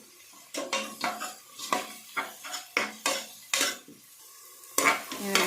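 Fenugreek leaves being stirred and fried in a pan for a fenugreek-leaf pulao, with repeated scraping, clinking strokes of a utensil against the pan over a faint sizzle, close and steady, with no talking.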